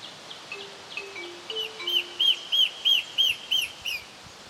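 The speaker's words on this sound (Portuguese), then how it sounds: "vive um pássaro que só existe neste lugar. O seu canto potente chama a atenção." An endemic forest bird of Boa Nova National Park in Bahia, Brazil, sings a powerful song: a few soft low notes, then a clear series of about eight ringing, evenly spaced whistled phrases that grow louder against a quiet background.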